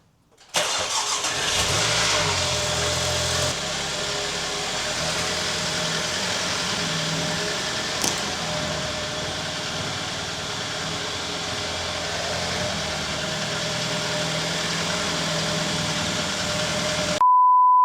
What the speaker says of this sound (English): now I'm gonna go ahead and start the car and see if it actually drives